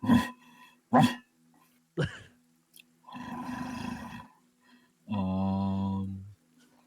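A voice imitates a dog yelping and whining as its tail is pulled, with several sharp yelps followed by longer growling, roaring cries, close and fairly quiet.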